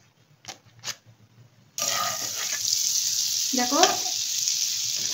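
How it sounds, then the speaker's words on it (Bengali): About four spoons of butter hitting a hot pan on a gas stove, breaking into a sudden loud, steady sizzle after a few quiet taps, with a brief spoken word just before. "4 চামচ মতন মাখন দেব এর মধ্যে।"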